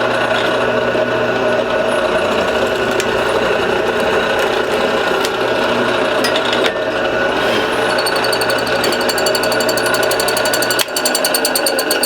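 A drill fitted with an auger bit bores a square hole into walnut or cherry wood, giving a loud, steady mechanical whir and chatter that runs the whole time, with a brief dip near the end and no talking.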